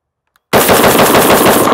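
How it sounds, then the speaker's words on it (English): A Daniel Defense Mk18 pistol fitted with a Law Tactical folder fires PPU 55 grain rounds: after a brief silence, a loud, sustained string of rapid, close shots runs to the end. "now I'm just gonna rip through these 10 rounds of the PPU 55 grain"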